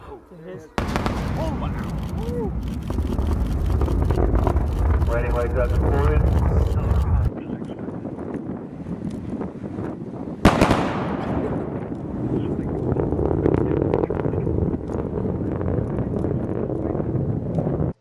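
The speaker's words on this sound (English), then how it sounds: "There are the twin sonic booms." Two sharp booms from a rocket, about ten seconds apart, cut through steady wind rumble, with a person speaking over the noise throughout.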